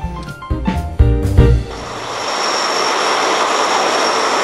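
A Philippine Air Force C-130 turboprop transport's engines roar close by, a brief rumbling sputter giving way to a steady, broad, loud engine drone.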